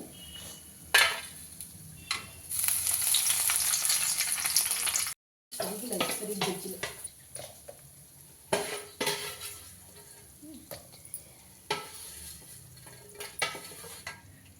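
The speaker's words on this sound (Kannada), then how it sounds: "ಕಡಲೆ ಬೀಜ ಕೂಡ ಫ್ರೈ ಆಗಿದೆ ಸ್ವಲ್ಪ ಬೆಳ್ಳುಳ್ಳಿ ಹಾಕೋತಾ ಇದ್ದೀನಿ" Peanuts and garlic fry in a pan with a crackling sizzle, joined by scraping stirs and clinks of a utensil against the pan. The sizzle rises and falls with a brief silent gap partway through.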